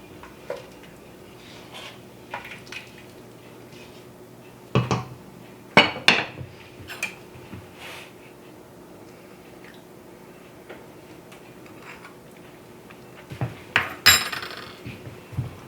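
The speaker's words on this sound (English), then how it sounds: "I'm just going to mash, not all the way, but just to break them apart a little bit. And then give it a good stir." Potatoes and vegetables are mashed and stirred in a pot of gluten-free broccoli cheese soup, with scattered metal clanks and scrapes of utensil against pot over a quiet background hum.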